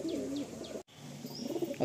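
Madrasi pigeons coo in a loft at Julpia Amtala, low throaty rolling calls up close, broken by a brief silent gap, with faint higher chirps overhead.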